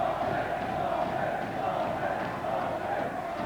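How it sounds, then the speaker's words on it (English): Boxing crowd in a Liverpool arena roaring and cheering to rally two fighters, a dense, sustained wash of many voices with no breaks. "The crowd trying to rally both fighters who have given us a tremendous, courageous clash here in Liverpool tonight."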